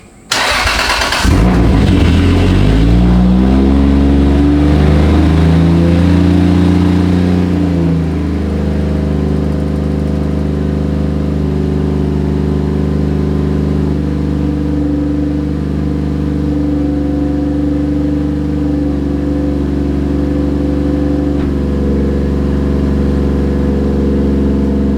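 A Toyota Chaser engine cranks and fires after work on its spark plugs, revs high, then drops and settles into a loud, steady, throbbing idle close by, with no talk.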